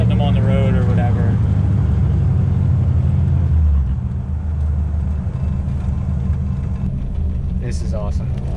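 An antique hot rod drives along with a deep, steady engine rumble that shifts down partway through, while people talk over it from inside the car.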